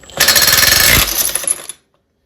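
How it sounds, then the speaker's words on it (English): An impact wrench loosens a nut on the pulley of a 1961 Bolens Ride-a-matic riding mower in one loud, close, rapid hammering burst of about a second and a half, then cuts to silence. "we've got the impact out, and now to take this nut off"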